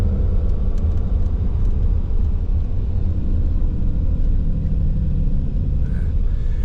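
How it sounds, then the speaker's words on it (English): A RAM 3500 dually pickup towing a boat rolls along with its exhaust brake engaged, giving a steady, heavy low rumble and drone inside the cab with no break, and no talking. "I'll let off the throttle, see the exhaust brake out. You might even hear it as well."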